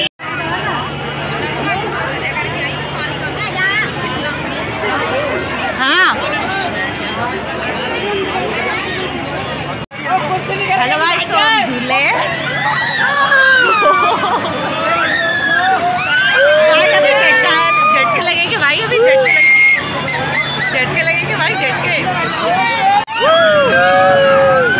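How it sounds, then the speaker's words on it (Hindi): Dense crowd hubbub at a busy Indian mela, many voices chattering close and far in a continuous babble, with one nearer voice rising above the crowd now and then. "मेले में इतनी भीड़ हो रखी है, इतनी भीड़ है सोच नहीं सकते"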